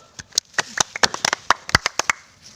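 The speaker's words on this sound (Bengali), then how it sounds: "তোমার জন্য একটা করতালি হোক।" Hand clapping for a goal at a village boys' football game, about a dozen sharp, uneven claps spread over a couple of seconds, close and fairly loud with no talk over them.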